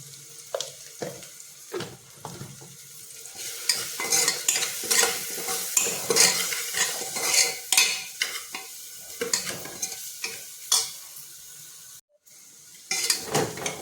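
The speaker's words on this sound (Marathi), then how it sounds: "आपला मसाला व्यवस्थित परतून झालेला आहे" Malvani roasted masala stirred and sautéed in a pan, with repeated close scraping strokes of a spoon over a soft sizzle, irregular and busy, pausing briefly near the end.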